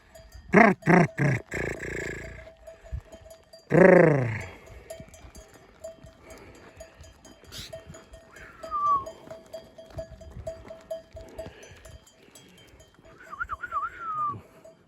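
A flock of sheep in the Nurhak countryside is let out on a windy, sunny morning. Several loud bleats come close together at the start, another follows after a pause, and wind and distant animal sounds carry on beneath.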